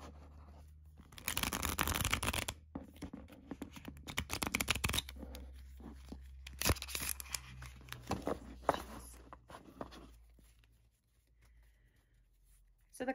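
A deck of pocket-size spell cards being shuffled close up, with bursts of riffling and soft card slaps that fade to quiet handling near the end.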